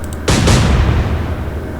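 Warship guns fire in the Atlantic Fleet naval combat game: a sudden loud boom, then a second blast right after, both rolling off into a long, rumbling decay with no voices.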